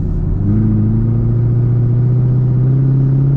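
Car exhaust with NPP active exhaust valves held open in track mode, a loud, steady deep rumble cruising in high gear, its drone shifting slightly in pitch, with no talking.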